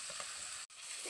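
Chilli powder, turmeric, salt and coriander powder sizzle in mustard oil with fried garlic and onion in a wok, a steady, close frying hiss interrupted by one brief break.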